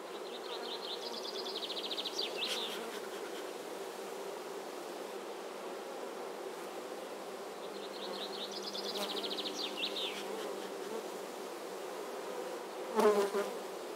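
Honeybees buzz at an opened hive during colony inspection, a steady close hum of many insects with two louder swells of nearby wingbeats and a brief sharp knock near the end, no talking.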